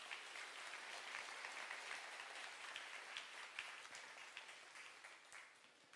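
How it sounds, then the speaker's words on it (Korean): A church congregation applauds returning mission team members, a steady, moderately distant patter of many hands clapping that stays even throughout and tapers slightly near the end. "다녀온 수고한 멤버들에게 우리 박수 한번 쳐줍시다"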